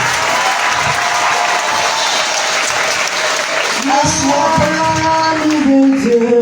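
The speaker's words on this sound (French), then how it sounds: "Et que des acclamations soient données à ce Jésus-là." A church congregation breaks into loud, steady applause and acclamations during a spiritual deliverance service, with raised voices and tonal singing or shouting rising over the clapping in the second half.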